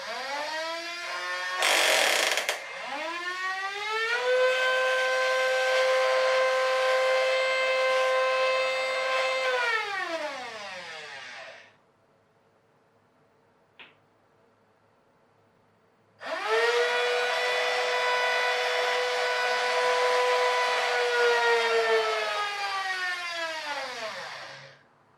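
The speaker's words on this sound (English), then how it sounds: "So this one should be the lift motor, as I keep calling it." The electric lift motor of an RC-converted Linde forklift truck whines in two long runs, rising to a steady high pitch and winding down each time, with a near-silent pause between them.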